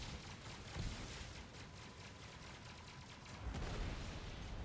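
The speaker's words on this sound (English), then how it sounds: "Let's see if the weapon missiles actually work." Missiles launch in the space game Star Citizen, heard as a steady stream of muffled, rapid firing bursts with a heavier thump partway through, fairly quiet overall.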